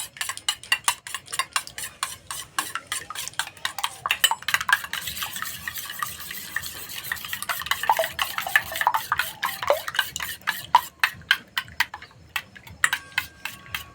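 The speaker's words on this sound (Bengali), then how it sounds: "ভালো করে গুলে নেব।" Two eggs whisked briskly in a bowl, a fast rapid clatter of the whisk against the bowl's sides, close and steady throughout with no voices.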